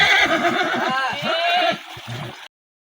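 Kathiyawadi horse whinnying loudly and close, a long shaky neigh followed by snorting breaths, ending abruptly.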